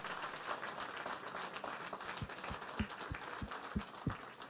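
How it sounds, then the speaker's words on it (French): Audience applause for podium winners at a horse-racing awards ceremony in Paris, a steady wash of clapping across the whole stretch with a few louder individual claps standing out near the end. "on peut encore applaudir ce podium"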